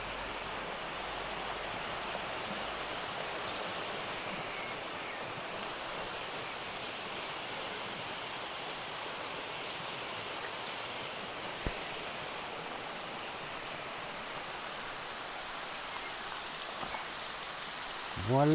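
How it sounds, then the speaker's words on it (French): A tufa limestone waterfall in the Cirque de Notre-Dame de Livron, near Saint-Antonin-Noble-Val in Tarn-et-Garonne, gives off a steady, even rushing roar throughout, with no other sound standing out. "Voilà la cascade."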